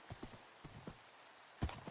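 Bony hooves of a Minecraft skeleton horse clop along in a loose run of separate steps. A louder, sharper clop lands near the end.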